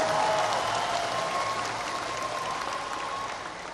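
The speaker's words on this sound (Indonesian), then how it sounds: "Tepuk tangan untuk para pejuang reformasi kita." A crowd at a volunteers' gathering marking 25 years of Indonesian reform applauds in a steady, dense wash of clapping that holds evenly and fades slightly near the end.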